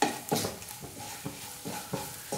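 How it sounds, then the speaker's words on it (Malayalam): Spoon stirring spice powders through a cauliflower and potato curry in a pan, giving soft repeated scraping strokes with a light sizzle underneath, close and fairly quiet. "ഇതെല്ലാം കൂടി നന്നായിട്ടൊന്ന് ഇളക്കി കൊടുക്കുക"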